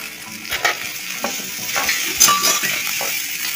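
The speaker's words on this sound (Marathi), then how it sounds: "स्मॅश केलेले बटाटे टाकायचे" Smashed potatoes sautéing in a pan, with steady close sizzling and frying crackle and occasional light clinks of a utensil stirring against the pan.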